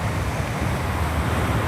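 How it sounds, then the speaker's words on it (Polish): Calm sea on the Norwegian coast gives a steady, soft wash of surf mixed with light wind noise, continuous and even, with no talking. "Teraz jest wyjątkowo spokojne morze."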